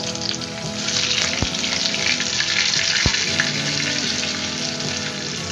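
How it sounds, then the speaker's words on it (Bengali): Pointed gourd (potol) pieces sizzle steadily in hot oil with black cumin, a loud continuous frying hiss with two brief sharp clicks, no voices. "এবার আমি এক এক করে পটলগুলোকে তেলে ছেড়ে দিচ্ছি"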